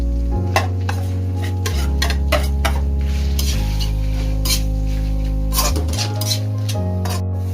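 Onion, ginger, green chillies and whole red chillies are stir-fried in hot oil for beef dry chilli, giving a loud, constant sizzle with repeated scraping and stirring strokes of a spatula against the pan.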